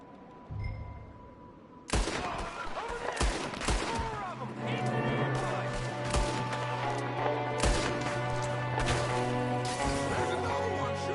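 Gunfire from a window in Red Dead Redemption 2, a sudden loud volley of cracking shots followed by a dense, sustained exchange of overlapping gunshots, with game voices talking beneath and a steady tonal score.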